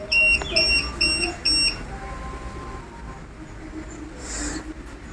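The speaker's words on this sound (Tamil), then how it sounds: "அதாவது இந்த மாடல் இப்போ வந்து பீப் ஆச்சு." A lithium battery voltage monitor on a scooter sends out a few short, high electronic beeps in a rapid run, close by, followed by quieter background noise and a brief hiss.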